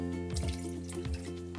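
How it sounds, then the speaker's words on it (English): Water pours into an Instant Pot packed with vegetable scraps for stock, a steady close splashing fill with a rising tonal ring as the pot fills. "I don't feel bad adding a little bit more water."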